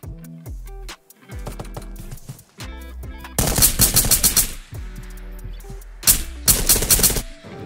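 Gunfire in the virtual reality shooter Ghosts of Tabor, bursts of automatic shots in two loud volleys over a steady background of game sound, with scattered single reports between them.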